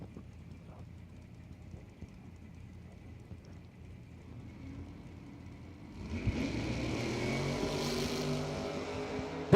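At a bracket drag race, a 1992 Olds Cutlass and Jim Ryan's 1967 Camaro idle quietly before the engines suddenly roar louder about two-thirds of the way in and keep up a steady, distant rumble with no talking.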